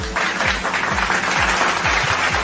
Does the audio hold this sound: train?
no